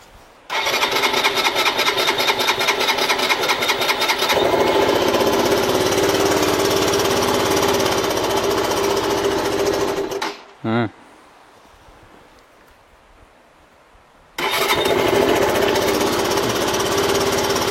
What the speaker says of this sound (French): Bon, au moins elle démarre avec la nouvelle batterie.